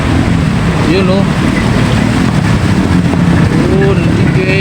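Motorcycle engine sputtering while riding through flood water, a loud, rough, continuous rumble with wind buffeting and splashing throughout, and voices talking over it.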